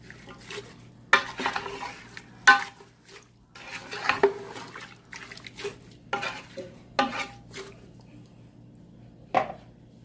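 A spoon scraping and clanking around a pot while stirring cauliflower and mutton curry with water and spices, in irregular bursts of metallic knocks and scrapes, alone with no talk.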